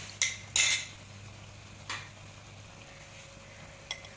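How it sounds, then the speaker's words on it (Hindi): A few sharp metallic clinks of a spoon against a pan while frying minced meat, scattered irregularly over a quiet hum, with a faint sizzle in between. "अब हम चम्मच की मदद से कीमे को फ्राई कर लेंगे"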